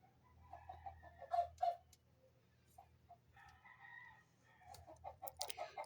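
A chicken clucks in short repeated bursts with a crow-like call and flies up, close by, over a low steady background hum.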